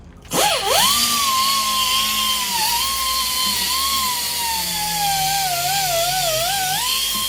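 A power polisher whirs steadily against a truck canopy shell, its loud high-pitched motor tone rising and wavering in pitch as pressure shifts, running continuously from start to finish with no talk.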